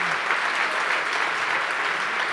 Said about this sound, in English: like, round of applause for Toly